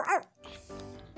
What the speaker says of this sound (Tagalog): Pati yung aso mga katuka o.